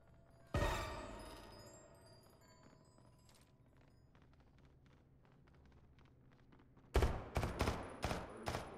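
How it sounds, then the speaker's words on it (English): Gunfire in the multiplayer horror game Deceit 2: a single sharp shot cracks out early, then after a quiet stretch of faint footsteps a rapid cluster of loud shots rings out. "Who's shooting?"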